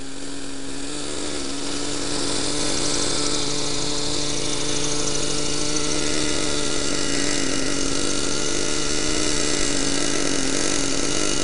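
A small 50cc engine on a Raptor Titan 50 drones steadily and loudly up close while choked, its buzzing whine holding a constant pitch with a slight rise partway through.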